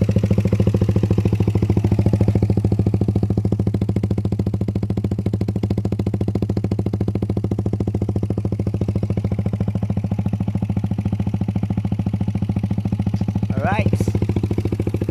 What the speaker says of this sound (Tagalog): sa pag-rev natin kanina sa Raider 150 natin, sobrang solid no, masakit sa tainga